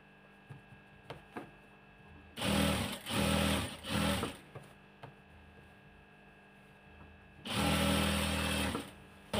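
A sewing machine stitches rubber elastic in several loud bursts of rapid whirring, separated by quiet pauses with light handling clicks, then one final longer run.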